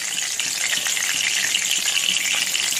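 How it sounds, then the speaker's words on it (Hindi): Curry leaves sizzling in hot oil for butter chicken, a loud, continuous, close frying hiss with no talking. "अब ये कड़ी पत्ता गर्म हो चुका है"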